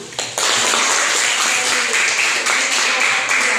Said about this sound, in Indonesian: jadi kita berikan tepuk tangan dulu sama kelompok 1